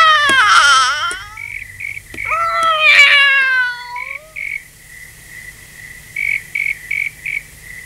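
A cat meows in a series of long, wavering, plaintive calls, two prominent cries close together early on, followed by quieter short chirping sounds repeating in the background, with no talking.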